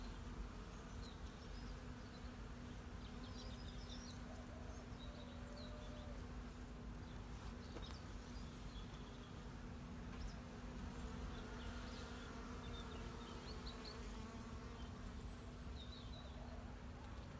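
Faint, steady buzzing of bees hums throughout as they gather nectar and pollen from strawberry tree flowers outdoors, with occasional soft bird chirps in the distance.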